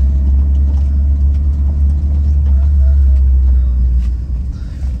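A car drives along a road with a loud, steady low engine rumble and road noise close up, easing slightly toward the end, with no clear voices.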